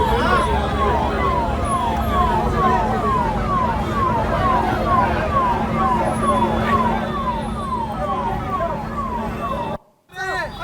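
A Delhi police vehicle arrives with its siren wailing in a fast, repeating up-and-down pattern, loud and close over a steady engine drone, cutting off abruptly near the end.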